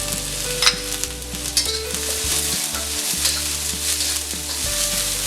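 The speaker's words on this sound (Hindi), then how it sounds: "इसे भी थोड़ा 1 मिनट सेक लेंगे" Chopped capsicum fries in a hot pan for soya Manchurian, a bright constant sizzle with scraping stirs and occasional clinks of a spatula, close by.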